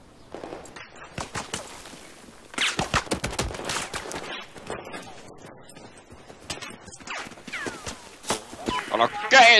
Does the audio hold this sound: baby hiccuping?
no